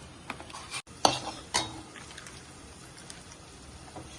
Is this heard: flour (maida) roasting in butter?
yes